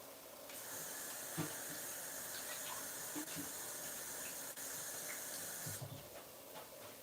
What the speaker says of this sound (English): Hold on, I'm gonna wash my hands.